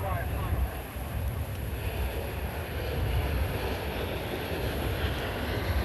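A quiet transport aircraft flies past at the 1987 Moffett airshow, heard as a steady, muffled broadband roar mixed with wind noise and no distinct engine whine.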